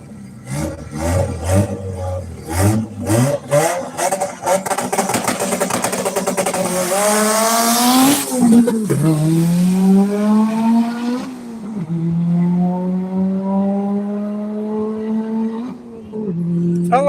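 A drag racing car at a dragway revs hard, its pitch climbing through several gear changes with brief drops between shifts, then holding a steady high drone.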